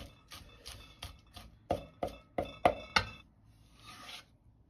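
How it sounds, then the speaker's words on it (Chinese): A knife chops scallion greens on a cutting board in about nine crisp, evenly spaced strikes close by. The last few strikes are the sharpest, followed by a soft scrape. "葱叶切成葱花"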